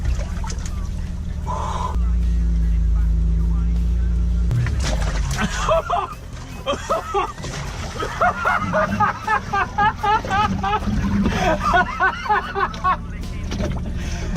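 A BMW car carrying a water-filled hot tub drives along with a steady low engine rumble, then water sloshes and splashes heavily in rhythmic surges while people talk over it.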